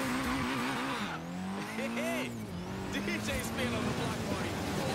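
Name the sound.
Nissan Silvia S15 burnout tire squeal, Forza Horizon 3 video game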